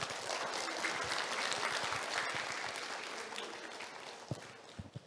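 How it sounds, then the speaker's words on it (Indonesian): An audience at a university guest lecture applauds, a full, sustained patter of many hands that thins and fades out toward the end, with a few louder thumps as it stops. "Untuk itu tepuk tangan untuk"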